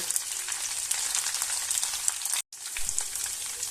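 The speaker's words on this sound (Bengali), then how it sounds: "ফুলকপিগুলো এবার ভালো করে আমি ভেজে নেব।" Cauliflower florets fry in a pan with a continuous crackling sizzle, close and busy with scattered pops, briefly cutting out for a moment before carrying on.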